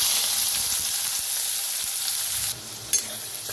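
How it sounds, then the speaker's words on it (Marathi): Finely chopped onion frying in oil with cumin and hing for masoor dal kanda, a loud steady close sizzle with faint stirring clinks that drops a little near the end, no talking. "कांदा आता छान असा भाजून घेऊया"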